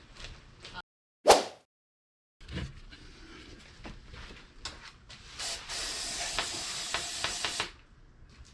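Aerosol brake cleaner sprayed onto the fuel filter housing of a 2015 Ford F-250 Powerstroke diesel, with several hissing spray bursts building to a steady close-up blast of several seconds, and a couple of sharp clicks of handling in between.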